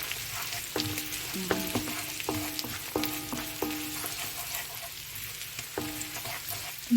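Onions and garlic frying in a pan with steady sizzling and bubbling, with some clinks of a utensil stirring, no voices.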